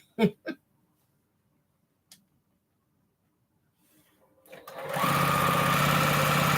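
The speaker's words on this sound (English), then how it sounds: "once I line them up, I can just sew it on through. Don't take long, not with this machine" A sewing machine stitches quilt strip sets for a postage stamp quilt top, starting after a few soft clicks and then running loud and steady at close range for the last couple of seconds.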